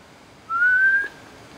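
A single short rising whistle from a person, clear and alone against a quiet background, lasting about half a second.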